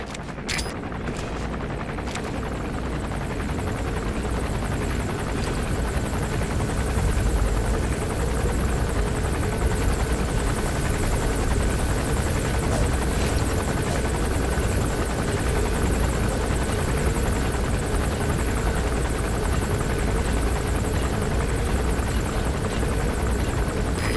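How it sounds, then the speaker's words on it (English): A helicopter lands in the video game Metal Gear Solid 5: The Phantom Pain, its rotor producing a loud, continuous, dense thrum that fills the whole stretch without pause. "There's a chopper landing."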